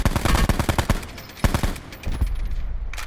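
Rapid gunshots in a video game firefight, a burst of sharp close cracks followed by further spaced shots and scattered quieter pops, with no talking.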